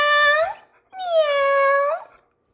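A dog lets out two drawn-out howling whimpers, the first short and the second longer with a wavering pitch, close and clear with a pause between them.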